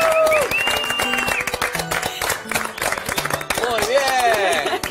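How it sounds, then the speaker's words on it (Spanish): A TV talk-show studio audience applauds, with dense clapping that swells and fades over about five seconds while voices talk and call out over it. "La aplaudimos ya, la aplaudimos."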